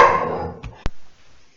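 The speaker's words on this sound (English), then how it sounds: "It's my dog that is making a lot of noise." A pet dog barks indoors during a recorded tarot reading, two sharp, close barks in quick succession after a fading tonal sound.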